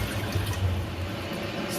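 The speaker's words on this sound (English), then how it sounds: "pour in 2 liters of chicken stock and add in 1 liter of water" Chicken stock and water pour into a cooking pot in a steady, continuous splashing stream, close and even throughout with no talking.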